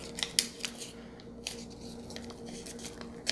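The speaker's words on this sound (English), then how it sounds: "you're creating a head by folding this over and folding that over" Paper is folded and creased by hand while an origami Harry Potter Dementor is made, giving soft close crinkles and a few sharper crisp snaps over a quiet background.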